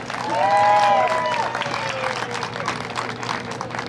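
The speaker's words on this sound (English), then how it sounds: "How about a round of applause for finishing last?" Crowd applause at an outdoor Special Olympics plane pull challenge, steady clapping with a few cheers and a brief tonal whoop near the start, continuing evenly throughout.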